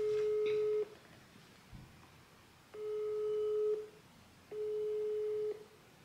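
An unanswered phone call rings out as steady repeated tones, three long beeps about a second each with pauses between, clear over a quiet room.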